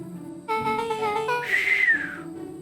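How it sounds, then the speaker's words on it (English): A low whistle from a character in the video game Beacon Pines, a rising tone that begins under harmonic game music and swells to a clear sustained note near the end, moderately loud. "Rollo let out a low whistle."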